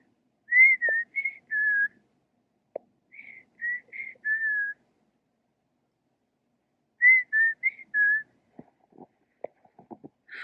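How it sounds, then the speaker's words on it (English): An unidentified bird singing in a front yard gives short bright whistled phrases in three bursts separated by pauses, clear against a quiet background, with faint soft knocks near the end. "I'm not sure what kind of bird that is, but that's such a pretty noise"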